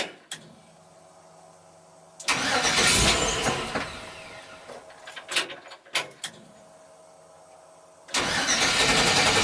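An LS-swapped Chevrolet C10 truck engine cranks and fires in two bursts, each catching loudly into a rough roar that sputters and dips between them, with a quiet pause before and between the attempts.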